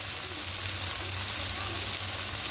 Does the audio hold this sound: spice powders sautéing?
yes